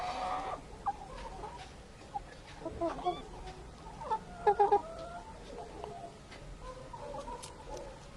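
Young chickens clucking in an autumn yard with pullets, cockerels and guineafowl, soft scattered clucks and a few sharper calls over quiet outdoor background, with a faint voice at times.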